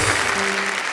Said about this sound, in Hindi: अपरा मेहता के लिए तालियां हो जाए भाई